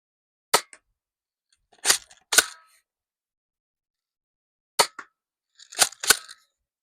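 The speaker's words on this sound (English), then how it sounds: "See, it's difficult trying to shoot like this." A cheap airsoft gun fires about six sharp, close cracks in irregular bursts, separated by silent gaps.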